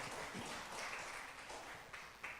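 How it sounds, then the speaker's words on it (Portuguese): A church congregation claps during a service, producing a soft, continuous wash of many hands heard at a low level and from some distance. "E pode aplaudir o Senhor Jesus."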